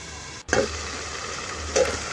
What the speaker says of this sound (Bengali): দেখুন চিকেনের গায়ে কিন্তু আর জল নেই আমি তাও একটু নাড়াচাড়া করে ভেজে নিচ্ছি